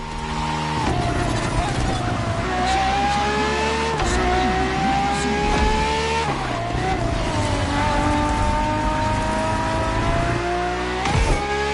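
A Ferrari FXXK supercar races in The Crew, its loud high-revving engine climbing and dropping through gear changes continuously, with tire noise throughout.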